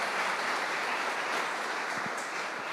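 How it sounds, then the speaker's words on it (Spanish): A church congregation applauds during a sermon, a steady, dense wash of clapping that holds at an even level from start to finish with no voices rising above it. "Vamos a darle un aplauso al Señor,"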